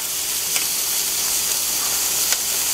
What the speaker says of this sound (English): to throw on the first couple of short ribs. And as I said, guys, this is a very quick sear.